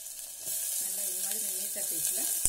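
Ginger garlic paste frying in a pan for masala rice, a steady close sizzle with a utensil stirring and scraping through it, no talking.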